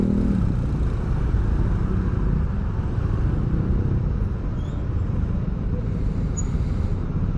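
Dense, congested traffic at Parung market, with a steady, unbroken rumble of cars, motorcycles and buses idling and creeping along close by, and no talking.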